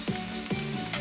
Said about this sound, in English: Let it fry.